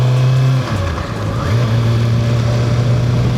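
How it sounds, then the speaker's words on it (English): A 2025 Kawasaki ZX6R motorcycle engine drones loudly and steadily, dips for a moment as the rider clutches and upshifts without a quick shifter, then pulls on again at a lower pitch. "So I'm gonna upshift, doing it regular because I don't have the quick shifter on."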